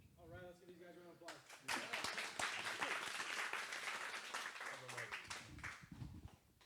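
Audience applause for the presenters at a real estate seminar on master leasing, a dense crowd of clapping that swells after an opening of speech and carries steadily to the end with a voice briefly over it.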